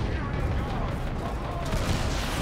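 A turret in the strategy game Dawn of War 2: Retribution fires a dense, continuous barrage of heavy booms that blur into a loud, unbroken roar, with a voice underneath.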